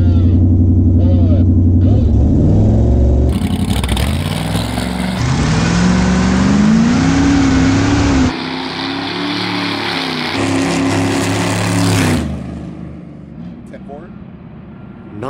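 A car engine fitted with a dry ice cold air intake revs hard, its pitch rising and falling in long sustained pulls, loud and close, with people talking over it.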